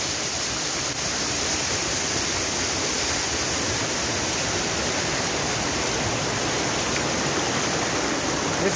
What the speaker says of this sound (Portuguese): Eu vou mostrar para vocês uma cachoeira linda demais.